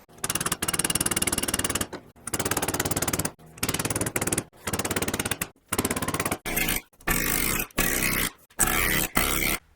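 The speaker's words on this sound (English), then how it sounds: "it was done using basic tools, including a rivet gun with a nylon set" Rivet gun fitted with a nylon set forming sheet metal on a Hawker Typhoon rebuild, hammering loudly in repeated bursts of about a second each with short gaps between them.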